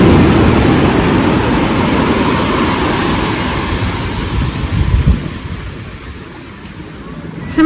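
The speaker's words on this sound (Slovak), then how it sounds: "Prvýkrát máme vlny dáky." Sea waves at a beach in Phuket: a steady, broad wash of surf and wind noise, fairly loud and continuous, swelling once midway before easing off.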